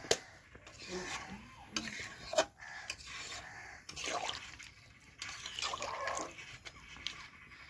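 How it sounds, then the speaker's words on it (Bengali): A spoon stirs pieces of desi rooster meat in a cooking pot for a Bengali kosha mangsho curry. Soft scraping and metallic clinks repeat at close range, with light wet sizzling underneath. "এখন একটু নেড়ে দেব।"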